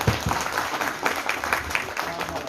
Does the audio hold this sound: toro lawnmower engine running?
no